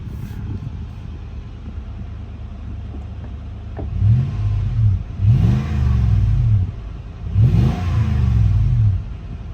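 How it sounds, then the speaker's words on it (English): A Lexus GX 470 fitted with a newly installed overland exhaust idles with a low rumble, then revs three times in quick succession, each blip swelling loud and deep before dropping back to idle. "Most of the noise you hear is coming from the actual engine itself."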